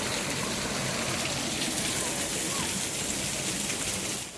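Water of the Tinguí waterfall in Saquarema, a steady, close broadband rush and splash that holds constant throughout.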